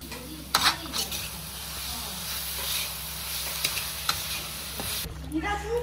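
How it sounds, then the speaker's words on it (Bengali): A spoon stirs melted sugar with sesame seeds in a pan, giving soft scraping and a light sizzling hiss that runs steadily, with a few sharper clinks against the pan. "চিনি বেশ খুব ভালো করে গলে গেছে, এবার উপর দিয়ে তিল ছড়িয়ে দেবো"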